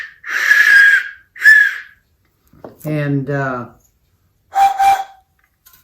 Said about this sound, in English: These are whistles.